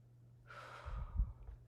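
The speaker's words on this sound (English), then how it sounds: "Deep breath." A single slow, deep breath during a relaxation exercise, a soft airy inhale close to the mic with a faint breathy exhale rumble at the end, alone and quiet.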